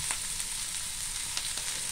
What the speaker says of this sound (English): so you can add all of these vegetables in. Just add everything in one time.